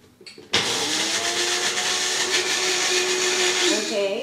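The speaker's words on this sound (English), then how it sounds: "I'm going to take an egg, and a whole egg, and I'm going to put it in my magic bullet" A Magic Bullet blender whisks a whole egg, its steady loud whirring motor kicking in sharply after a brief clatter and running continuously to the end, with a slight pitch shift near the close.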